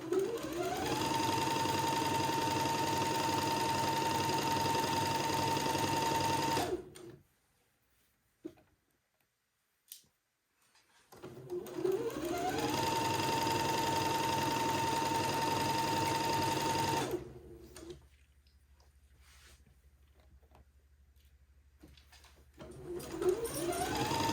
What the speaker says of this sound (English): And then just sew a tiny little seam.